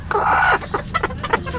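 A mother hen with newly hatched chicks clucks close by in a quick run of short, throaty clucks over a steady low background hum.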